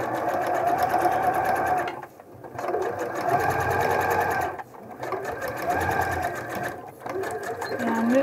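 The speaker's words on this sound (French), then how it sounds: "On va refaire une petite surpiqûre de ce côté-là." A sewing machine topstitches a trouser fly, with close, fast whirring bursts of stitching broken by two short pauses, loud and steady.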